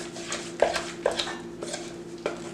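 A spoon mixes softened cream cheese dip in a bowl, scraping and knocking against the sides in a few sharp clinks amid soft stirring, close and moderately quiet.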